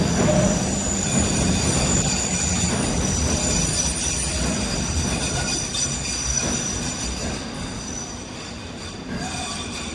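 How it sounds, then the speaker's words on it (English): A London Underground Circle Line train rumbles in loudly, wheels squealing high over a steady roar of carriages pulling into the station, with no talking. "Oh, another train's coming."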